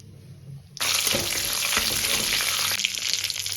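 Dried chilli, cumin and a bay leaf hit hot mustard oil, a sudden loud burst of crackling sizzle after a quiet start that keeps spitting and popping close by.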